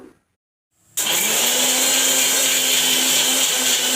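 A mixer grinder blending lemon peel with aloe vera gel starts abruptly after a near-silent second, then holds a loud, steady high-pitched motor whine to the end.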